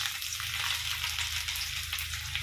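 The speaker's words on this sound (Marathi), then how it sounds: "तेल आता आपलं गरम झालंय आता मी जिरे आणि लसूण फोडणी देणार आहे" Cumin seeds and garlic sizzle in hot oil for a tempering, a dense, even crackling hiss heard close up and continuous, with no talking.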